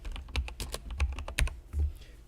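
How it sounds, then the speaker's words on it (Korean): Computer keyboard keys pressed in a few separate clicks, Ctrl and Enter among them, close up and fairly quiet with no voices. "키보드 컨트롤 엔터입니다."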